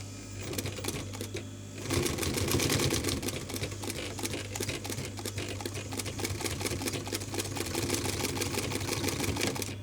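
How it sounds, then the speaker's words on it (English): Sewing machine stitching through a single layer of MDF, with a loud, fast, even mechanical clatter of needle strikes running continuously at close range, no talking. "So let's see how well it goes through 1 layer of MDF."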